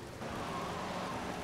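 Rain falling in GTA Vice City: a steady, dense hiss of rainfall with a low rumble underneath, continuous and fairly faint over a short stretch.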